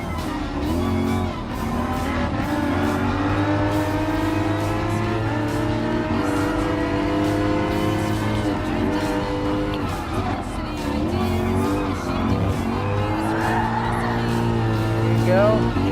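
Race car in Gran Turismo Sport drifting sideways through an uphill right-hand corner, engine droning steadily with rising and falling pitch and tires squealing, running continuously and loud throughout with a voice talking over it.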